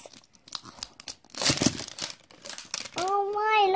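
A child tearing open a wrapped Barbie gymnastics toy package, with quick, loud ripping and crinkling of paper and plastic, near and busy, mixed with voices and ending in a sung or drawn-out vocal tone.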